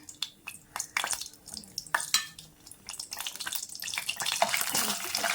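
Cashew nuts frying in hot oil for a mutton cashew fry sizzle and bubble close by. The frying swells in bursts and is broken by stirring scrapes, then grows into a dense, continuous sizzle toward the end.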